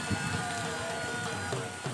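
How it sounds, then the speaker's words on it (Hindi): Rain falls steadily outdoors over open crop fields during a heavy storm, a continuous close hiss of drops that stays fairly even for the whole stretch with no talking. "बारिश भी हो रही है"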